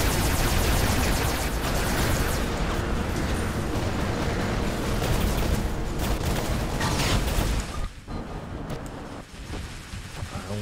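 Dense, continuous space weapon fire and explosions roar from the robot combat game War Robots, loud and unbroken before thinning briefly near the end.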